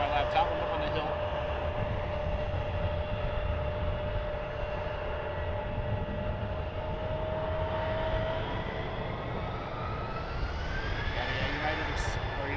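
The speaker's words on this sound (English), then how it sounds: "United Airlines 737" A United Airlines Boeing 737 approaches to land at Cleveland Hopkins airport, its jet engine drone steady throughout and a rising whine building toward the end.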